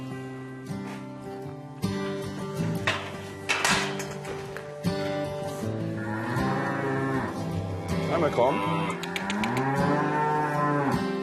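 Cows mooing on a Swiss farm in Altnau in the morning, several long, loud bellows rising and falling one after another, with a brief spoken word from a person nearby.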